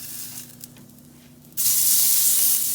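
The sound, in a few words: garlic and onion burger sizzling as it is flipped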